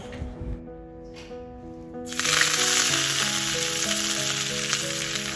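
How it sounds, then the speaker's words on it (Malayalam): Curry leaves dropped into hot oil for a tempering, bursting into a loud, steady sizzle that holds to the end after a quieter, tonal opening. "എണ്ണ ചൂടാകുമ്പോൾ കുറച്ച് കറിവേപ്പില ഇട്ട് കൊടുത്തിട്ട് ഒന്ന് മൊരീച്ചെടുത്തിട്ടുണ്ട്"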